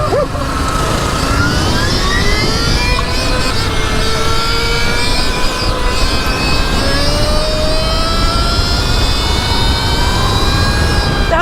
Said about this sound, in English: Oh, that's a two-stroke.